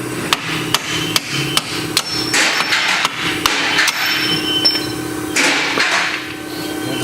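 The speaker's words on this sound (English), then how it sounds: "You may have to use a hammer to get them out." Sharp metallic hammer blows knock out the strut bolts on a 2001 Oldsmobile Intrigue front strut assembly. A dozen or so irregular strikes ring out close up, some with a tinny clink, with no talking.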